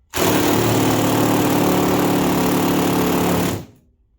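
Heavy impact wrench loosening overtightened lower bolts, one continuous loud rattling hammer burst of about three and a half seconds that cuts off abruptly, close and alone.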